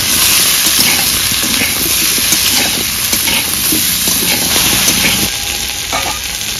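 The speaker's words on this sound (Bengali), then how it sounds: "এবার ভালো করে ভেজে নেব।" Taro and potatoes fry in oil with salt and turmeric, giving a loud, steady sizzle with scraping stir strokes throughout and no talking.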